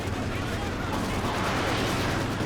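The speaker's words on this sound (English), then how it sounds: "Man, this thing is a pretty nice MG" An MG42 machine gun fires in a Company of Heroes 2 winter battle at Rzhev, a dense, continuous rattle of gunfire mixed with other battle noise. A commentator's voice runs underneath.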